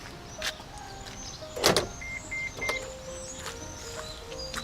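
Opening the charging port cover on a Nissan Leaf electric car gives a soft motorized whir and a sharp mechanical clunk near the middle, followed by a few faint electronic beeps in a quiet setting with no talking.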